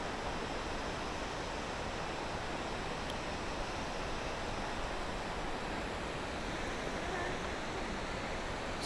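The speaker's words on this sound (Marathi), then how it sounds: "सुंदर असा धबधबा" Nanemachi waterfall in Maharashtra, rushing water pouring steadily from a high cliff in a jungle setting, a continuous broadband roar at even loudness with no break throughout.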